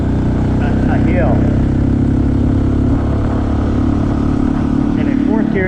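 A Honda CT125 motorcycle with a 142cc big-bore kit drones steadily and loudly as it pulls uphill in fourth gear, its engine note holding nearly constant, with a voice faintly over it.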